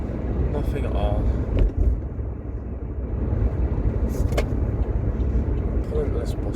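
A van drives along and pulls into a bus stop, its low engine and road rumble steady under wind buffeting, with a few faint clicks, and someone speaks over it.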